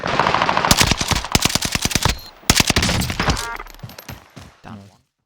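NZ-41 rifle fire in Call of Duty: Warzone cracks out in two rapid, loud automatic bursts, followed by fainter shots and game noise, with some talk at the end.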